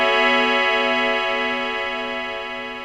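Knobula Poly Cinematic synthesizer sounding a sustained square-wave tone through wave shaper mode 1, buzzy and harmonically rich with a faint pulsing ripple, steady and loud, slowly fading slightly, with no talking.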